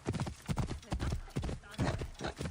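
Horse hooves clip-clopping in the video game Assassin's Creed Origins near stables by the Hippodrome: a steady, close, loud trot of rhythmic hoof strikes, with a brief voice mixed in.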